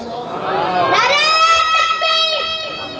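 A crowd at a devotional religious gathering calls out a slogan together, loud and close, in sustained and rising voices. No distinct clapping stands out.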